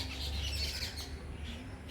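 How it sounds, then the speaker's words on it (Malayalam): Faint, scratchy bird calls repeat over a noisy background, high and thin, somewhat distant. "കിളിക്കുഞ്ഞുണ്ട് കിളിയമ്മയുണ്ട് കിളിയമ്മ കരയുന്നു"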